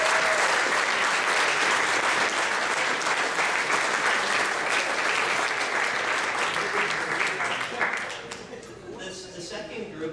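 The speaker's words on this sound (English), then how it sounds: "I think we all owe ourselves a round of applause." A graduating class at a grad dinner breaks into loud, sustained applause that fades over the last couple of seconds, with some talk underneath.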